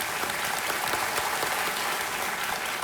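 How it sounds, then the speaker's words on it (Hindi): Studio audience on a quiz show applauding to welcome a contestant's father and younger sister, a continuous even wash of clapping at moderate level with no voices over it. "तालियों के साथ आपका बहुत बहुत स्वागत।"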